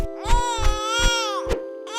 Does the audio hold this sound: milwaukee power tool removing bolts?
no